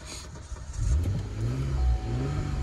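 Cadillac CTS engine cranking and catching after getting wet in mud, then revving up in a steady medium-pitched roar at close range, with no talking.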